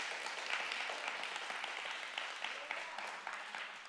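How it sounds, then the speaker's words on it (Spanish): A church congregation gives a loud round of applause during a sermon, many hands clapping steadily and continuously throughout at moderate volume. "Dale un aplauso más fuerte"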